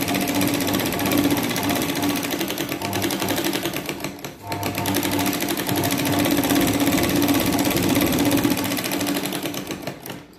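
A sewing machine runs almost without a break while stitching a lined katori blouse, producing a loud, close, rapid mechanical chatter that dips only briefly midway.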